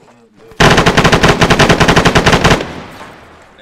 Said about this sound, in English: There's full auto and semis.